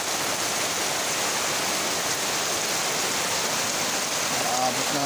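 Floodwater rushes steadily during heavy rain in Surigao del Sur, a dense, unbroken roar of torrent and downpour, loud and close throughout, with a faint voice underneath near the end.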